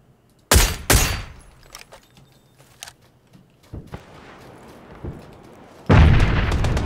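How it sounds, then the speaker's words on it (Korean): Grenade blasts and gunfire in a battle royale video game: two loud booming hits open the clip, then scattered distant shots and pops, and a heavy rumbling explosion near the end, with no voices. "폭탄 까야지."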